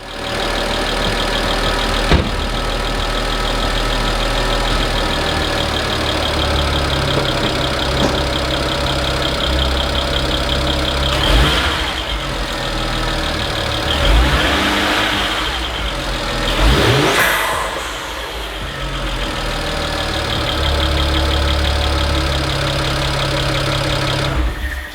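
BMW 135i with the N54 engine idling steadily, then revved several times in short swells that rise and fall back to a smooth idle, close and fairly loud with a constant hum underneath.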